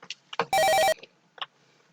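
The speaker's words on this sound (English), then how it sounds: "Just then, the telephone pings in the next room." A telephone rings once in the adventure game Sonny's pursuit of the Deadly Death Angel, a short electronic trill burst heard alone amid light clicks and faint game sounds.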